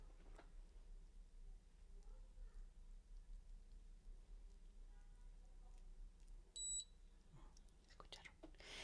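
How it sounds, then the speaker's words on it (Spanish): A short, sharp electronic beep from a galvanic facial device's two-minute timer sounds once near the end, cutting through a quiet room with soft background noise and faint rustling. "Y ya comienza a hacer, fíjense, ya comenzó a pitar."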